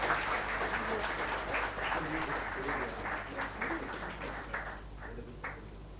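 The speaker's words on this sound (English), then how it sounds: "Can you have a round of applause," An audience at a Chennai finance event applauds during a book presentation, continuous moderate clapping heard at some distance over a low steady hum, with faint voices underneath.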